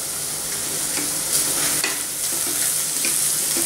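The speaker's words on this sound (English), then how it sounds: "Now cook this till the masala is completely dried." Methi paneer masala sizzling and frying in a pan as it dries out, a steady crackling hiss with soft stirring scrapes throughout, close and alone with no talk.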